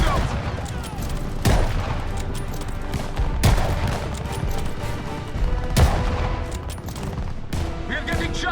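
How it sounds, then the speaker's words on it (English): Dense gunfire in a Call of Duty Vanguard city battle near a hotel, continuous rattling shots with several heavier booming reports standing out, voices calling under the din. "We're getting shot from above!"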